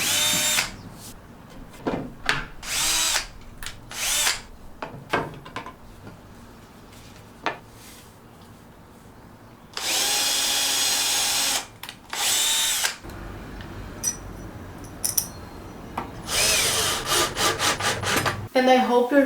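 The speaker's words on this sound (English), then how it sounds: "So I'm gonna have to drill some holes." A power drill bores holes through 18mm MDF outdoors in repeated loud whirring bursts of varying length, separated by short pauses and softer handling noises.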